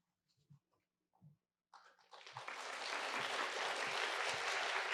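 After a few quiet knocks and a brief voice, an audience at a high school board candidate forum bursts into loud, sustained clapping that swells and holds to the end.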